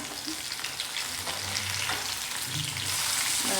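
Paneer thecha kebabs sizzle steadily in a hot pan just after being turned, a continuous close frying hiss with faint shifting crackle and no voices.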